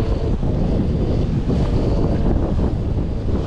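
Strong sailing wind of about 18 knots buffets the microphone in a loud, constant roar, with sea and surf noise from the boat underneath and no voices.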